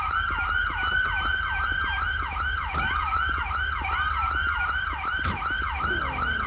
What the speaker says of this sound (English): That's both of our sirens going off.